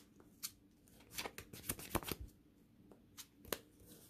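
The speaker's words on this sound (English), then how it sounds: "we're going to give this a good shuffle now" Playing cards for a Chaos Lightsworn card-game deck are shuffled by hand, giving a close, quiet series of riffling and snapping bursts, with a pause and two last flicks at the end.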